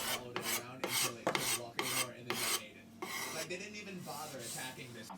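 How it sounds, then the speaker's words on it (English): Card scraper cleaning up beech and mahogany wood after epoxy set, a series of short, close rasping strokes in a steady rhythm, then softer continued scraping. "did a bit of cleanup with a card scraper"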